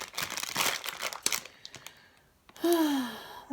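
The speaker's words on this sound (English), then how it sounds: "Let's just cut this squishy in half." Foam squishy toy being cut in half, giving soft crinkling, crunching and tearing textures up close, followed by a rising squeaky drag near the end.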